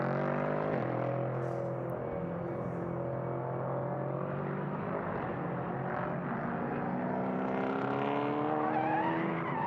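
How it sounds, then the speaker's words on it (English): An endurance prototype race car spins at turn five during a four-hour race at Le Castellet, with a continuous engine drone and strained tire squeal held at a steady, moderate distance throughout. "Oh hello, that was a spin by the sounds of it at turn number 5."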